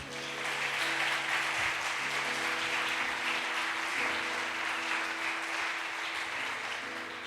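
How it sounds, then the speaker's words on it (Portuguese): Church congregation applauding steadily throughout, a dense continuous wash of clapping with a faint sustained tone underneath, no talk over it. "Aplauda ao Senhor Jesus."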